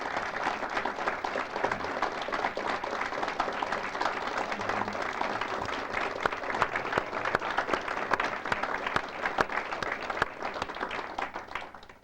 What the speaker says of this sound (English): so I would say we clap to her, like just as a form of acknowledging her.